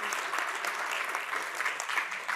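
Steady applause from a seated conference crowd greets a panel speaker stepping onto the stage, a full, continuous wash of clapping that holds level throughout without any speech.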